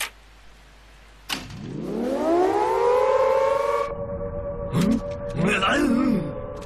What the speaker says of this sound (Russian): Так, теперь нам нужно активировать сирену.